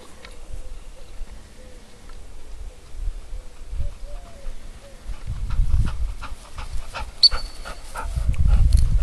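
A hunting dog, a female, comes back with a retrieved bird, sits and presents it, panting audibly in the foreground with some footfalls and outdoor rustle, getting louder toward the end.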